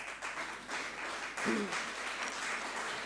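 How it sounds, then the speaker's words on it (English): Audience applause at an opening ceremony for an arts exhibition, a moderate, even spatter of clapping from a modest crowd, heard at some distance and fairly quiet, with a brief voice-like sound midway. "So she needs a round of applause for that."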